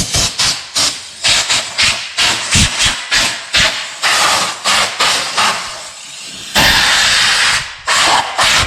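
Repeated short bursts of hissing compressed air blowing dust off a Renault XM3 engine, about a dozen quick blasts in an irregular rhythm, close and loud, ending with a longer sustained blow.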